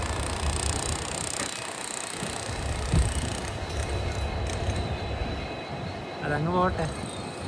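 A passenger train on the Yeshwantpur–Chikkaballapur line rumbles steadily from inside a lightly occupied coach, a constant low roar with a brief rising whine near the end, while a voice speaks briefly over it.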